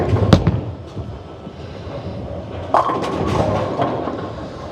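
A bowling ball is thrown down the lane in a busy bowling center: a sharp thump at release, then a steady low rolling rumble, with a louder clattering impact toward the end amid background alley noise and no talk.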